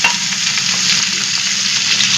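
Loud, steady sizzling of vegetables, including ridge gourd, frying in a wok, with scraping and rustling stirs running through the constant hiss, close up with no voices.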